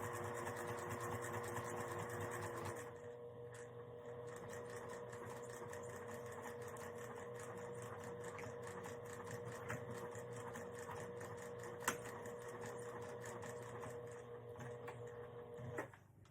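A sewing machine stitches fabric for a small quilted coin pouch, running with a fast, even mechanical chatter from start to finish at moderate distance, with one small knock partway through.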